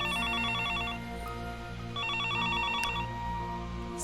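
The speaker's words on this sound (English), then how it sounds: "Suddenly, the phone rings." Telephone ringing in the visual novel game Higurashi, an electronic warbling ring in two bursts about a second apart, clear over a steady background music bed.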